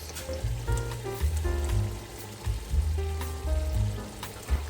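A stew base with ginger and garlic paste fries in a pot, giving a close, continuous sizzle with scraping and stirring, and tonal hums and clinks mixed in.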